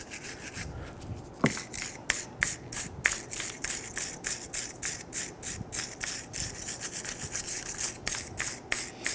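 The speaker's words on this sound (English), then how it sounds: "I'm going to use my wire brush, and I'm going to clean where the pads go." A wire brush scrubs the pad seats of a brake caliper on a 2006-2012 Toyota RAV4, giving quick, close, repeated raspy strokes in an even back-and-forth rhythm.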